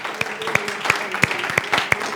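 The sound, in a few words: congregation clapping hands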